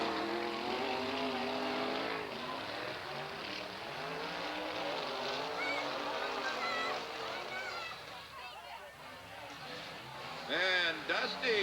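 Race cars roar around the oval at Southern Oregon Speedway in a close battle for the lead, their engines droning loudly and steadily under a continuous announcer's commentary, with a louder burst near the end.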